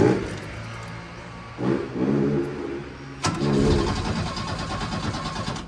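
Chevrolet Chevette engine cranking and then catching, the starter whirring in short bursts before the motor fires into a rough, close running sound; no speech.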